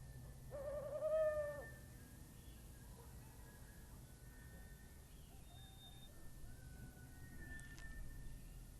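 An owl hoots a few times in a forest at night, faint and distant, with quiet night ambience and a couple of faint high calls later.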